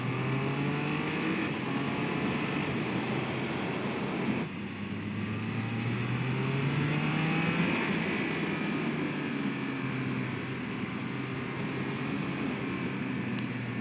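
A 180 hp 2021 Triumph Speed Triple 1200 RS triple-cylinder engine rises and falls in pitch as the rider rolls the throttle on and off through the gears. Heavy wind noise runs continuously underneath, with no speech.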